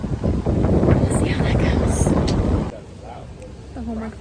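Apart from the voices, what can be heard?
wind blowing into microphone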